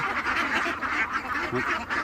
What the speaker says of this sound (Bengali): সবাই হাঁস দেখতে পারেন কী অবস্থা